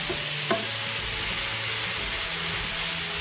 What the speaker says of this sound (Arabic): صافي غادي نحرك مزيان